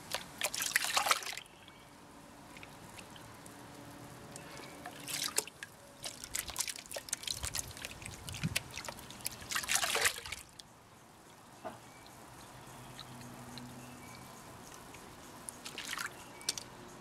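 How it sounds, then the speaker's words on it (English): Water trickling and dripping from a snuffer bottle into a gold pan while gold prospecting in Leonora, in several short bursts with quiet gaps between them, close and fairly soft. "when I tip out the snuffer bottle in the pan"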